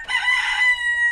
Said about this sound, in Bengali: মোরগটা খুব ডাকতেছে